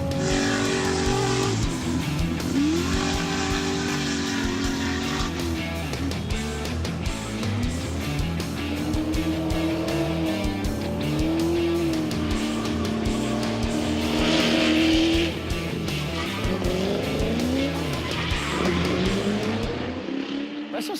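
Nissan sports car driven hard on a racetrack, engine revving and rising through gears with a sustained drone, tires squealing in long bursts through corners, continuous and fairly loud throughout.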